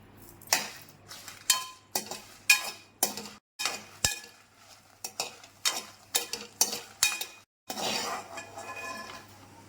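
Peanuts and green chillies frying in a little oil in a kadai for peanut chutney, with a steady run of sharp spatula scrapes and clinks against the pan, then a soft, continuous sizzle at the end.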